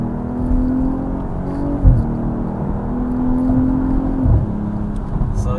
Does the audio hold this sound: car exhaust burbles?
yes